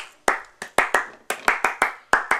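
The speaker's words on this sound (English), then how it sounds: "Clap your hands." A crowd of fans claps hands in a loose, steady beat, about a dozen sharp claps with short echoing tails, fairly close and alone without talk.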